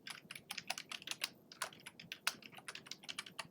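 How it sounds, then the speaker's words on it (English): Rapid, irregular clicks of a computer keyboard as a name is entered into a text box, steady close-up tapping with no voices. "I'm going to type in the name"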